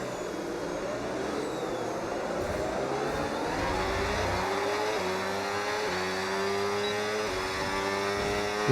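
Formula 1 race cars in the F1 25 video game scream at high revs through Parabolica at Monza, engine tones climbing and stepping through gear changes, steady and moderately quiet with no speech.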